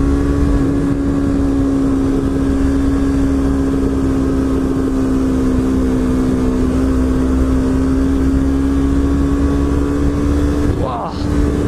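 Yamaha R3 motorcycle engine droning steadily while riding along a winding road, a loud sustained hum holding a constant pitch throughout, with a brief gust of wind noise near the end.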